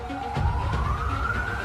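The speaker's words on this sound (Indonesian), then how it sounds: "Aku dengar suara sirine polisi" A police car siren from GTA V wails with a steadily rising tone, fairly close and continuous, over a low rumble of traffic or engine.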